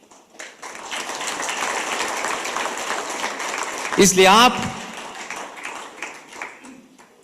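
A crowd at a public speech in Haldwani applauds with a dense, sustained wash of clapping that holds steady for several seconds, with a voice speaking briefly over it near the middle.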